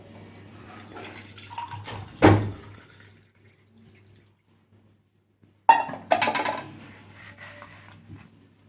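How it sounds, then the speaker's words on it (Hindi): Water splashes in a home kitchen as it is poured to be heated for drinking: two short bursts of running, splashing liquid separated by a quiet pause, with a faint low hum beneath. "पहले गर्म पानी कर लेते हैं, गर्म पानी पीते हैं।"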